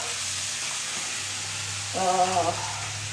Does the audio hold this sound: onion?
yes